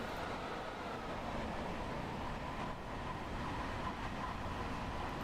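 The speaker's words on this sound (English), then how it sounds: "you've got the generator I can hear, a bit of a wind noise from the cab as well" Steady, even rumble of a Long Island Rail Road M3 train cab in Train Sim World, with generator hum and wind noise running continuously at a constant level, no voices.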